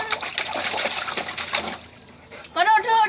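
A child named Annie splashes water while bathing, a run of close, busy splashes and dribbles that fade, followed by an adult voice speaking.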